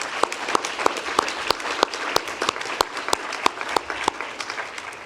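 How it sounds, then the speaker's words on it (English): Workshop audience gives a steady round of applause, many hands clapping in a dense, moderately loud patter for about five seconds, with only faint voices underneath. "Big round of applause."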